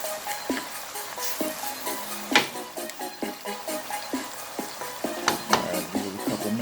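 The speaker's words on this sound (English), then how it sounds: "Then I'm going to stir it up and allow it to cook." Goat meat being stirred in a cooking pot for Jamaican curry goat, with a soft sizzle of frying under repeated clanks and scrapes of a utensil against the vessel, close and fairly quiet.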